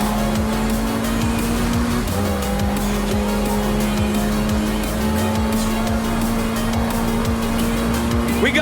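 Racing cars and hypercars in Forza Horizon 4, a loud continuous roar of engines with rising and falling revs and repeated tire squeals, dense and close with no talking.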